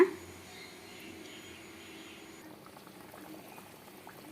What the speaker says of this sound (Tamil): பாருங்க நல்லா சூப்பராக கொதிச்சிருச்சு பாருங்க